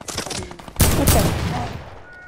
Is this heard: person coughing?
no